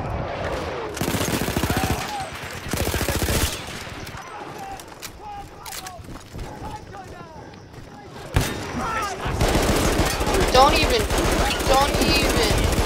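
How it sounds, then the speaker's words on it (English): Automatic machine gun fire in a Battlefield 1 campaign battle, long loud bursts of rapid rattling shots separated by quieter gaps with scattered distant pops, near and dominant throughout. "I'm just gonna use a whole mag on each guy."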